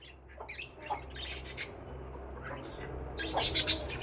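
Java finches chirp and squawk in short bursts in a large farm cage, sharp high calls clustering near the end, with faint background noise between.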